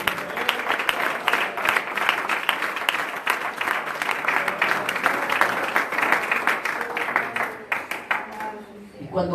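A church congregation at a prayer sermon breaks into lively, sustained clapping for most of the stretch before it tapers off, with voices mingled in under the crowd.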